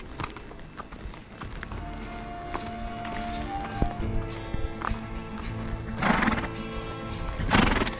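A quiet horse walks along a trail with steady clip-clop hoofbeats, while another horse's whinnies and snorts rise up nearby at times, all fairly close and without talk.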